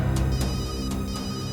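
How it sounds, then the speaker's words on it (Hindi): A mobile phone rings with a sustained electronic ringtone, its tone holding steady and fairly loud, with a few sharp bursts of noise breaking in. "कब से फोन बज रहा है, उठा लो।"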